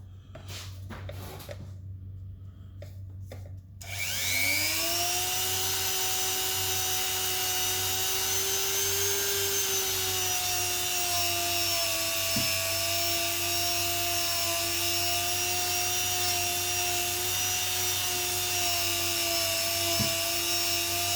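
A Dremel rotary tool polishing guitar fret crowns spins up after a few seconds of quiet handling, then holds a steady high-pitched whine with faint dips as it touches the metal frets.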